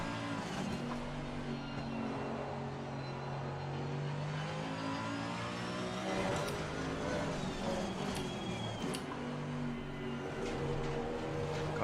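A race car in Assetto Corsa Competizione at the Nürburgring drones through sustained revs, with engine pitch dropping and climbing around several gear shifts and a few brief sharp tire or shift noises.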